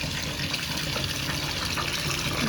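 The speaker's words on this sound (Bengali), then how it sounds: "এখন আমি ভালো করে ধুয়ে পরিষ্কার করে নিব।" Rice for chitoi pitha being washed with water, a continuous close splashing and swishing of water and grains in a bowl, steady throughout, with no talk.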